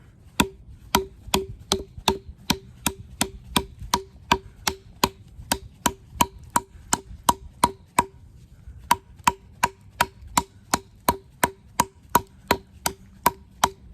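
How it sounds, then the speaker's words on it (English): A Lionsteel M5 knife chops into wood outdoors, making steady, sharp, close knocks at a regular rhythm, about two per second, with one brief pause midway and no talk. "this is a little bit more chopping than what I would ever use these knives for"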